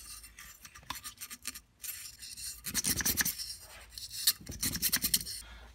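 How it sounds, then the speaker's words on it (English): A tiny bottle brush scrubs inside a dirty Stihl SE62 shop vac motor, giving a close, dry, raspy bristle scratching that comes in short bursts and grows louder in two stronger scrubbing spells. "The world's smallest bottle brush."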